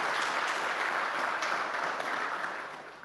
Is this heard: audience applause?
yes